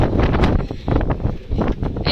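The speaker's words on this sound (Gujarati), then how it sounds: "એટલો પવન છે," Strong wind blows across a cloudy hilltop on a trek, battering the microphone in close, rumbling gusts that rise and fall several times over a couple of seconds.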